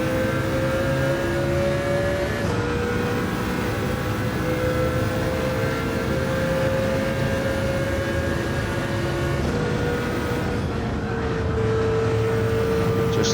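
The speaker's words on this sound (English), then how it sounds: "Just lifted the throttle as we push it through that corner" Mercedes CLK LM race car in Gran Turismo 7 at Spa, its engine droning loud and steady with a sustained high whine that dips briefly as the throttle lifts, then carries on.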